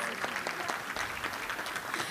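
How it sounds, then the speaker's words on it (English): Luncheon crowd applauding valedictorians, a dense burst of many hands clapping close and loud throughout, with some voices mixed into the clapping. "let's have one more round of applause for the valedictorians for the class of 2024"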